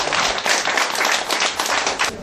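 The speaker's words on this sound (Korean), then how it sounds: "아, 박수" A hall audience claps steadily at a ceremony in Gangneung where funds are handed over for a silver band's instruments, dense close applause that is loud and continuous throughout.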